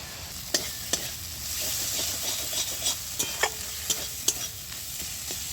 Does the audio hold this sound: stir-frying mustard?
yes